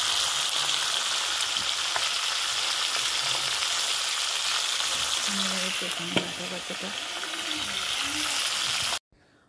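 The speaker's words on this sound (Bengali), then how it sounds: "ওদিকে গ্যাসে মাথাটা ভাজা হচ্ছে" Steady, loud sizzling of a fish head frying in hot oil on a gas stove, continuous throughout with a brief stir near the end before it cuts off.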